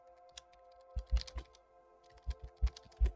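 Keys tapped on a computer keyboard in quick bursts of several strokes, close and fairly faint, with a steady hum underneath and no talking.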